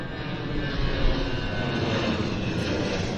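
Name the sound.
Air Canada Airbus A321 aircraft on approach at Vancouver airport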